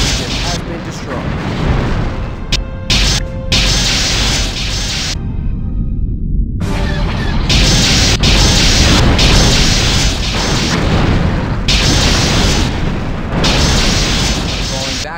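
Ship explosions in a Star Trek space combat game pitting a refit Constitution-class starship against TIE fighters, heavy booms and roaring blasts in a loud, continuous barrage with a brief lull partway through.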